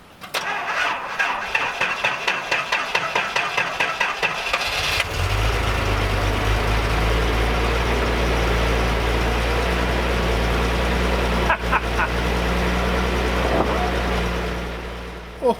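A Datsun 280Z, left sitting for twenty years, cranks over rapidly on the starter, then fires and settles into a steady, fairly loud idle that runs on alone.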